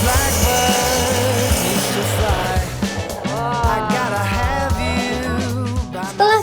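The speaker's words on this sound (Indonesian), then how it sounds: "memotong kayu panjang ini masing-masing 50 cm sebagai kaki kursi dengan gergaji mesin nih" Power saw cutting a long wooden plank into chair legs, a steady loud buzzing rasp with shifting pitch that runs continuously, briefly easing and picking up again.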